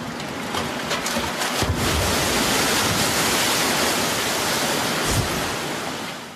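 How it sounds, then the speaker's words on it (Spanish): A laboratory tsunami wave generator releases a huge rush of water, a loud steady roaring wash that swells and holds with no pause, close and alone with no voices. "Esta máquina puede generar olas de más de 3 metros y expedir 300 metros cúbicos de agua"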